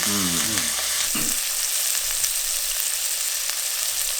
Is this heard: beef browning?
yes